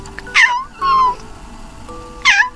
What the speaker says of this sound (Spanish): Cuando llegaron, Ronron maulló fuerte.